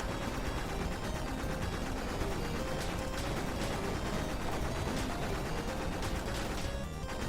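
Rapid, continuous gunfire from an auto-scrolling shooter stage in the video game Bleed, firing nonstop at a ship, a dense loud mechanical rattle with sharper bursts layered over busy game sound and no voices.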